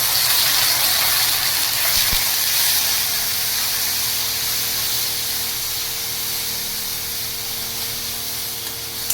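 Water poured into a pan of frying spices with turmeric for a potato curry sets off a loud, steady hissing sizzle, broad and continuous with a brief knock near the start, no voices.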